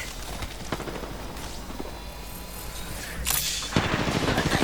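Rapid gunfire in the video game Apex Legends, dense bursts of shots and impacts filling the whole stretch, growing louder near the end.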